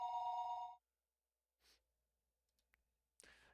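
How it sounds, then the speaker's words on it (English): A telephone rings once, a short electronic trill at the start that stops abruptly, followed by near silence with faint rustles and a click. "Just when I thought that, the phone rang."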